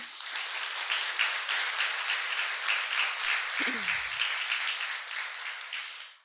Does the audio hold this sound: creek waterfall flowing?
no